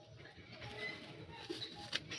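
Imported Malbai pigeons from Ludhiana coo quietly, soft low warbling at close range against a hushed background.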